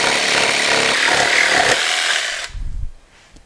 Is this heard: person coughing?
no